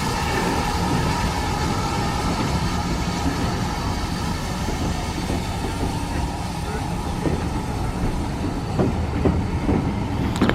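A West Somerset heritage railway train rumbles along steadily with a constant mechanical roar and some rattling, heard from inside a busy carriage, with a few faint clicks toward the end.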